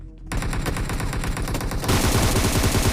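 Loud, rapid automatic gunfire from the PUBG Mobile video game, a dense burst of shots that starts abruptly and continues without pause.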